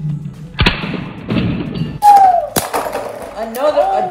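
Beyblade spinning tops, Achilles models, clash in a stadium battle with sharp thuds and clacks, a whirring spin and a ringing metallic skid, close and loud, while people talk throughout.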